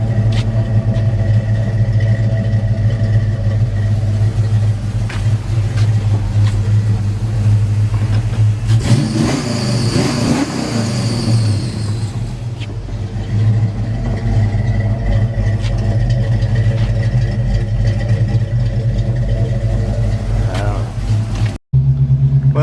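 Ford Mustang engine with a repaired header running steadily while driving, a loud continuous low rumble that rises briefly into a revving surge midway, then settles, ending with a sudden cut.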